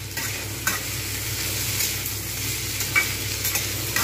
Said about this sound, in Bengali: আমি কিন্তু বরবটিটাও আলুর সঙ্গে ভেজে নেব